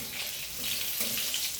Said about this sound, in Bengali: তা এই যে পটল ভাজা করছি।